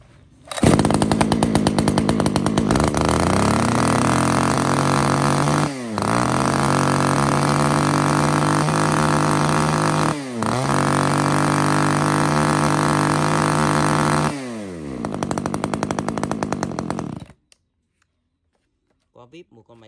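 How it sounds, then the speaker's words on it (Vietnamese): A small Echo long-handle 30cc chainsaw engine starts and runs close and loud, revving up and down several times with brief dips before cutting off, under a man's speech. "Một con máy cưa Echo tay dài nhỏ nhẹ cho các bác về sử dụng gia đình, công suất 30cc"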